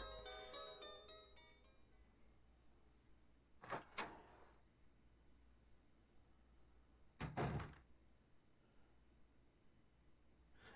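A hidden door in a video game opening with two separate heavy thuds a few seconds apart, each trailing into a short rumbling scrape, set against a quiet low background hum.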